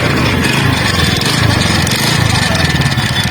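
An NTORQ 125cc scooter engine with a loose one-way gear nut runs up close, a loud, rough, steady rattling drone with irregular clattering knocks throughout.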